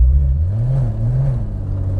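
A Volkswagen R32 or R36 engine idling with a deep, smooth purr, a steady low rumble that swells slightly and settles, loud and close with no talk.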